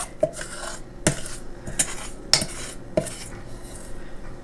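Metal non-stick cookie baking sheets clatter and clank on a kitchen counter in about five sharp, separate impacts, with quieter scraping between them and no talking.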